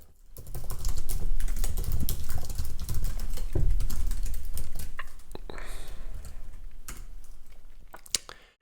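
Rapid, continuous typing of code on a computer keyboard, dense clicking keystrokes close up with brief pauses, no voices.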